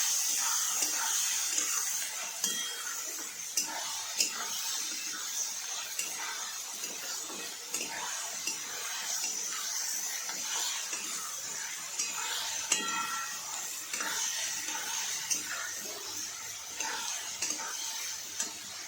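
Onions sauté with salt in a pan for kanda poha, giving a steady soft sizzle and hiss with occasional stirring scrapes, close and continuous throughout.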